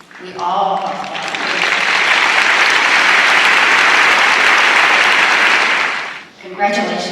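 An audience at a PDRA Doorslammer Derby drag racing event in Bowling Green, Kentucky breaks into sustained applause, a dense wash of clapping lasting about five seconds before fading, with brief talk at the start and end.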